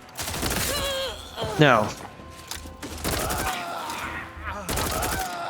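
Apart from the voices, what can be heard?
gunfire in the video game The Outer Worlds 2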